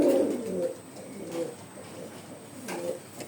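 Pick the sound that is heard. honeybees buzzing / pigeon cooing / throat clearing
pigeon cooing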